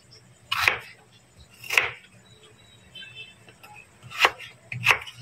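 A knife finely slicing unpeeled ginger root on a cutting board, four separate chopping strokes, close and moderately loud, with quiet gaps between them.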